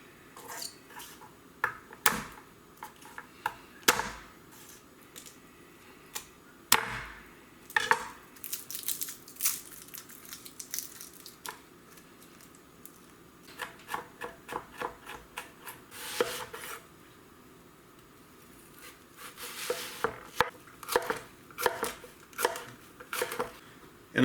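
A knife chops garlic on a cutting board, giving scattered quiet taps and scraping strokes in uneven bursts, close by and with no talking.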